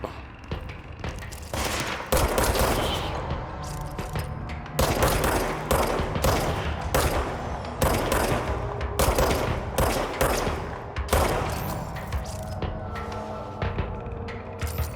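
Repeated bursts of gunfire from an upgraded weapon in the game Control, loud sharp volleys spaced by short pauses, close and dominant with no talking.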